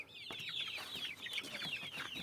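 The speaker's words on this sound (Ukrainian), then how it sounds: "І зараз буде перший випуск курчат на двір." Young Dominant breed chicks, about seven weeks old, let out into a yard for the first time, make a busy run of high cheeping and soft clucks, fairly close and quiet.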